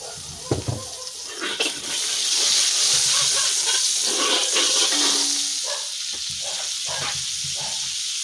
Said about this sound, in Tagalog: Saute muna tayo, saute.